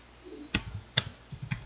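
Keys clicking on a computer keyboard during Microsoft Office setup, a few sharp separate taps spaced about half a second apart, close and fairly quiet with no talk.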